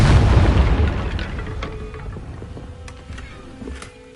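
A Confringo blasting spell going off in the Hogwarts Legacy video game, a loud deep boom that rumbles and slowly fades away, with a few faint clicks and tones in the tail.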